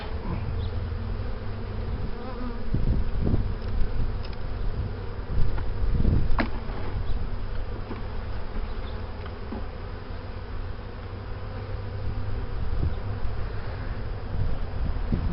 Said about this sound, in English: we have a fair number of bees in this hive